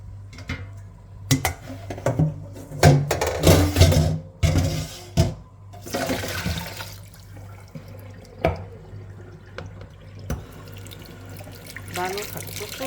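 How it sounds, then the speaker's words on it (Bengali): Small fish being washed by hand in a kitchen sink under running tap water, with splashing, dripping and occasional clinks of dishes over a steady low hum, close and fairly loud. "ছোট মাছগুলো এখন ধুয়ে নিব।"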